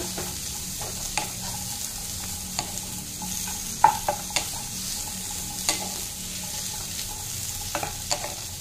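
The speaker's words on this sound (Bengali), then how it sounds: "তারপর অনিয়ন, ক্যাপসিকাম, ক্যারট, এগুলো আমি দিয়ে দিচ্ছি। ব্রোকলিটা একটু পরে দেব। এটা ভালো করে সতে হতে দেব।" Onion, capsicum and carrot are sautéed in a pan, a continuous sizzle broken by repeated spatula scrapes and taps at an uneven pace, close and clear, with no speech.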